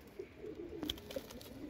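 Pigeons of an old racing line in a Mirpur loft give soft, low coos that repeat through the moment, close by, with faint bird chirps above a steady room hum.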